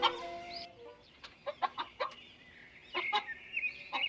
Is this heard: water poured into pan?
no